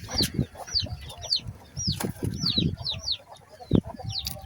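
Chickens on a farm cluck and chirp repeatedly in short rising calls, close by, with a few wing flaps and a sharp louder call near the end.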